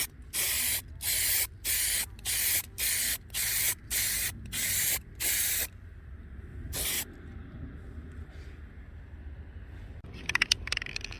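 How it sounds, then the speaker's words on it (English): A spray can sprays paint onto Honda CRM 250 two-stroke engine parts in about nine short, even bursts, loud and close, then a single longer burst, with faint rattling and clicks at the end and no talking. "It's a good idea to test spray can first on the newspaper to make sure it's coming out correctly."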